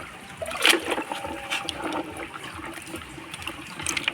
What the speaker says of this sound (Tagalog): Ngayon huhugasan na natin.